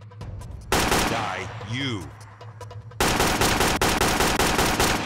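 Gunfire in the video game Counter Terrorism Unit: a dense burst of rapid shots begins early, breaks briefly, then returns in a loud sustained volley, with gameplay sounds and voices talking over it.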